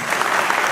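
Audience applause at a cultural evening in a packed hall, a dense, steady wash of many hands clapping close and loud throughout the short moment, with no voices over it.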